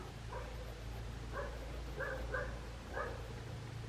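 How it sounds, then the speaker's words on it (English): A dog barks outside at a distance, four or five muffled barks spaced about half a second apart over a steady low indoor hum. "Oh, I hear a dog barking outside."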